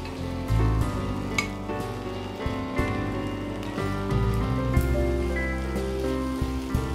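Sausage fried rice being mixed in a hot pan gives a steady, rain-like sizzle under background music, with no talking.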